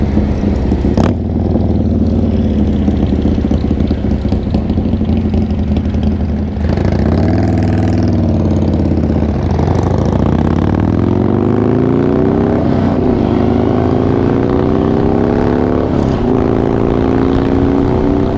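A Honda 700 Transalp adventure motorcycle rides along a mountain road in Virginia, its steady engine drone loud and continuous with wind noise, and pitch shifts as it changes gear and speed partway through.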